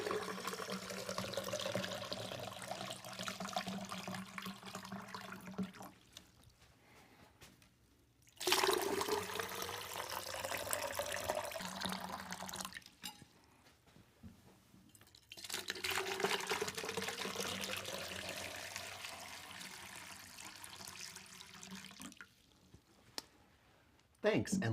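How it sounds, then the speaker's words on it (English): Water poured from a pitcher into vases for a reception centerpiece, two long splashing pours separated by pauses, with soft clicks and handling noise and a person talking. "So the next thing we'll do is add water."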